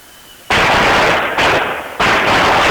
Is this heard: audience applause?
no